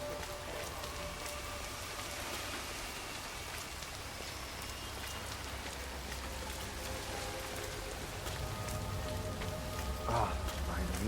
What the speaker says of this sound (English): Rain, rain, nothing but rain.